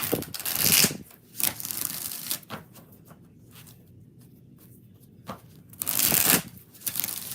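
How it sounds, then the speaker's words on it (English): Tarot cards are shuffled by hand in bursts of riffling and flapping, close and crisp, with quiet pauses between shuffles. "3 more shuffles."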